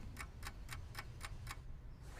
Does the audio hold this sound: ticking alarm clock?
yes